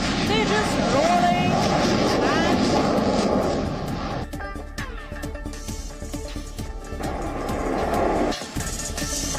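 An Indian Air Force delta-wing fighter jet roars loudly as it pulls up into the sky at the Aero India air show, a sustained broad engine rumble that drops off midway and swells again, with commentary spoken over it.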